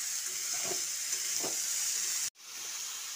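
Potato, chopped tomato and peas sizzling loudly in a hot pan, with a constant close hiss of frying, soft stirring scrapes, then a brief cut before the sizzle resumes.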